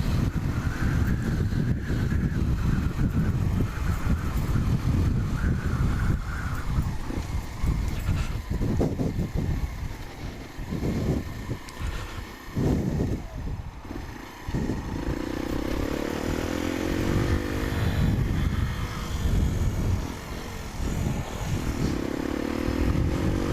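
Sinnis Apache 125 motorcycle fitted with a DEP System3 exhaust and up-jetted carburettor, engine note running steadily near the microphone with changing revs and heavy wind buffeting throughout.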